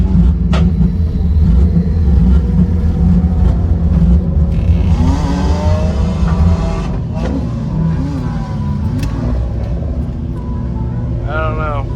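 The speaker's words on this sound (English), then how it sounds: "Yeah, it's idling real rough." A car engine runs rough at idle after failing to stay started, a low uneven rumble that persists throughout, with people talking over it at times.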